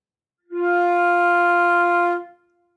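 A single sustained flute note, steady and clear, held for under two seconds before fading out, with no other sounds.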